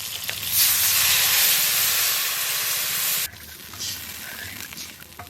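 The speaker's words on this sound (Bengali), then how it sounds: "লঙ্কাটা একটু ভাজা হয়ে গেছে এখন জল দিয়ে দেবো" Water poured into a hot pan of frying green chillies erupts in a loud, bright sizzling hiss that holds steady for about three seconds, then drops abruptly to a softer simmering crackle.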